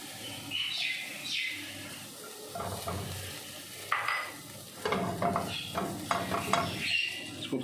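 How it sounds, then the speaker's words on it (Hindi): Chopped garlic sautés in about a tablespoon and a half of oil in a pan for restaurant-style black pepper chicken, giving a steady close sizzle with stirring and light utensil scrapes throughout. "इसको थोड़ा सा सौते करेंगे हम"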